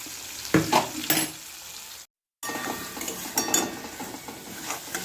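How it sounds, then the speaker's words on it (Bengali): Fish frying in oil in a wok gives a soft sizzle, broken by a few sharp clatters and scraping bursts of stirring, with a brief silent gap midway. "ওই তেলেই একটু তেল দিয়ে মাছটা ভাজতে দিলাম"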